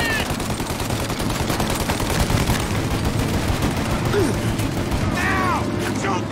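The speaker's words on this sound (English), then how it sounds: "Shoot out their guns when there's a break in their fire!" A rural shootout in Mafia: Definitive Edition, with sustained machine-gun fire and scattered shots crackling nonstop under background commotion and shouting voices, plus a few whistling ricochets near the end.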